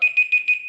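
A quiz timer alarm goes off with four quick, shrill electronic beeps in a steady rhythm, loud and close, ending in a brief held tone.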